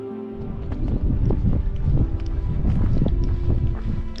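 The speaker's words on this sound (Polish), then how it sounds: "Wieje zimny wiatr, ale na szczęście nie jest aż taki mocny, jak go słychać" Steady, blustery cold wind buffets the microphone with low rumbling gusts, continuous and fairly loud throughout, on a long-distance hiking trail.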